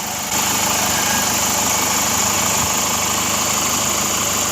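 A Chevrolet Captiva engine turns over and catches at once, then runs with a steady, continuous mechanical hum and light high-pitched whine, close and fairly loud, with no talk.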